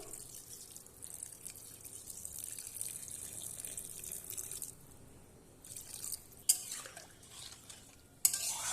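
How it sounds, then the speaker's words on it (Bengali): Water is added to small fish in a cooking pot, giving soft trickling and pouring sounds with light clinks of utensils and dishes, faint and close, with brief sharper knocks near the end. "এবার আমি এখানে জল দিয়ে দেব পরিমাণ মতো।"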